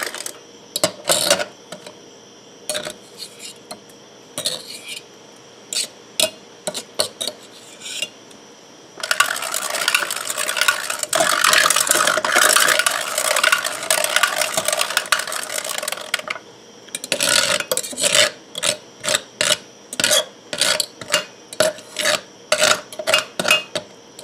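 A hand-cranked food mill grinds and rasps as it presses canned tomatoes for sauce, with repeated scraping strokes, a sustained grinding stretch in the middle, then steady rhythmic cranking close by.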